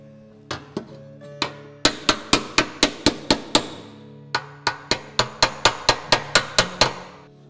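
Hammer and dolly on sheet metal during dent repair: sharp ringing blows in two quick rhythmic runs, roughly a dozen strikes each, close and loud with a bright metallic decay after every hit.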